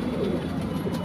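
Soft, continuous cooing of several Saharanpuri lalsara pigeons close by, a low throaty murmur filling the brief moment.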